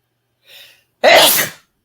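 A person sneezes close to the microphone, with a soft intake first and then one loud, sharp burst before silence.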